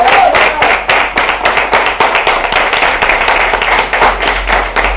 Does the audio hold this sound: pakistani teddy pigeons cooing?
no